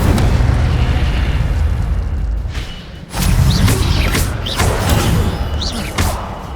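An Incendio fire spell bursts in the game Hogwarts Legacy with a loud, booming blast and crackling rumble, followed by a second heavy burst and several sharp pops.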